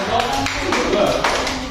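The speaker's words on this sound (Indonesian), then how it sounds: "Bagus ya, tepuk tangan." Students clap their hands in a classroom during a temperature-scale lesson, a brief burst of quick, close applause mixed with a teacher's voice.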